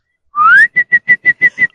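A person whistles near and loud: one rising glide, then a run of six short, evenly spaced high notes, with no talking.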